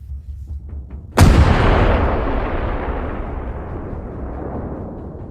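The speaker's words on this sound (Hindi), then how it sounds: "M777 तोपें गोलाबारी शुरू करती हैं।" An M777 towed howitzer fires a single heavy shot, a sudden loud boom that rolls out into a long, slowly fading rumble and reverberation.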